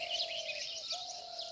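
Birds chirp faintly in a mountain morning, with a steady, thin twittering and a sustained high call running continuously in the distance, and no voices.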